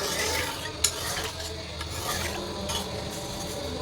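Chicken stirred and sautéed in a pot, a close sizzling fry with scraping stir strokes and one brief knock against the pot, with no voices.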